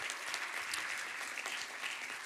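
Audience at a music contest in Ozieri applauding as a folk band takes the stage, a full, continuous burst of many people clapping, even and sustained throughout.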